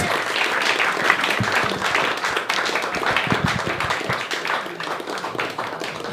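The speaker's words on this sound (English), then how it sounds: "give her a big round of applause" Applause from an open mic stand-up comedy crowd: a busy, lively burst of many hands clapping, with scattered crowd noise and a voice under it, tapering slightly toward the end.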